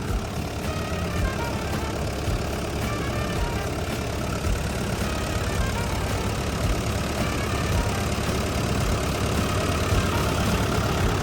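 A CAT 910K wheel loader engine runs at a steady idle close by, a continuous even drone with a low rumble and no speech over it.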